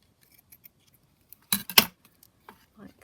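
Scissors snip through a scrap of lace and paper at close range, two quick crisp cuts in a row among faint handling noises on a quiet craft table.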